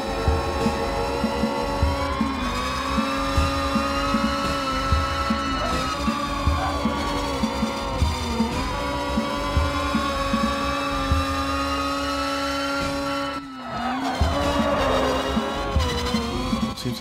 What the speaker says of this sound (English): We hit top gear and then it revs up.